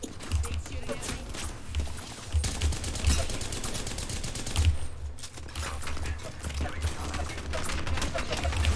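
Apex Legends gunfire crackles in rapid automatic bursts with short pauses between volleys, moderately loud, with a voice talking over the shooting.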